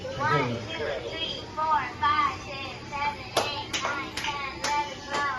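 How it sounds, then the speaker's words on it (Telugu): A handful of sharp, separate hand claps ring out at a family birthday celebration, following lively talk and children's chatter that keeps going around them. "అది కొట్టేస్తుంది క్లాప్స్."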